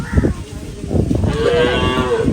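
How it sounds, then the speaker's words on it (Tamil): A cow gives a long, loud, drawn-out moo close by, preceded by a brief lower grunt, with farmyard background noise. "மாடு நிக்குதா?"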